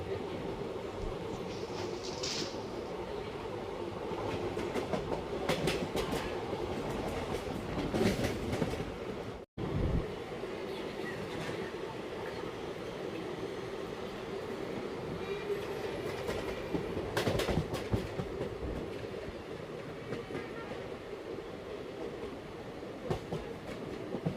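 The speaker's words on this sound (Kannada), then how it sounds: "ನಮ್ಮ ಟ್ರೈನ್ ಈಗ ಜ್ಞಾನಭಾರತಿ ರೈಲ್ವೆ ಸ್ಟೇಷನ್ನ ಸ್ಕಿಪ್ ಮಾಡ್ತಿದೆ." The Wodeyar Express runs along the rails between Mysore and Bangalore. Inside, a steady rumble and rhythmic clatter go on for the whole stretch, with occasional sharper rattles and one brief dropout partway through.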